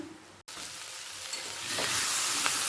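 Pui Mechuri curry sizzles steadily in a pan over a medium-to-high gas flame, a continuous close crackle that cuts out for an instant and then comes back a little louder, with faint stirring scrapes.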